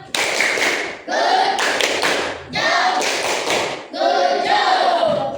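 Students in a classroom play a rhythmic clapping game, producing four separate bursts of hand claps and taps, each about a second long with brief pauses between them.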